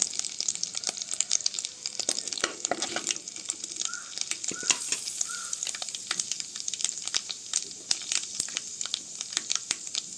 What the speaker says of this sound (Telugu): ఇప్పుడు మెంతులు ఆవాలు వేస్తున్నానండి.